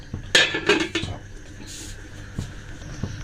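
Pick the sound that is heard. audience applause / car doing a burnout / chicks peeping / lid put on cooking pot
lid put on cooking pot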